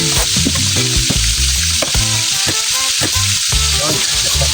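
Loud, constant sizzling of egg frying in oil in a pan, with steady crackle and spatter filling the sound, close and without talking.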